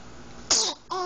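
A single quick, sharp sneeze from a 2-3 month old baby, followed by a brief soft vocal sound in a quiet room.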